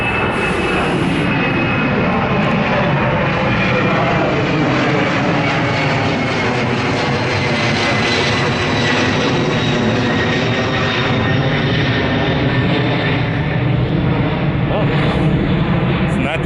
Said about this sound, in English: Hold on, plane taking off.